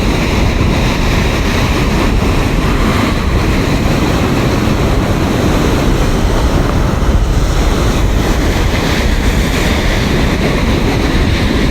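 Ocean surf at the 1983 Europro surf competition in Newquay, England, with small, mushy waves in cold water, forms a steady, unbroken wash of breaking water and rushing foam that stays loud throughout.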